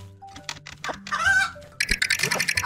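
A chicken in the survival video game Wood 'n Stones gives a short burst of clucks, then a quick run of rapid, pulsing clucks amid other game sounds.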